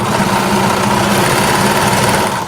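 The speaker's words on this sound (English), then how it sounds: "I'm just going to overlap it still, and then I'm just going to use my serger" A serger overlocks overlapped fabric edges, its motor humming in a steady, fast, continuous whir at close range with no pauses.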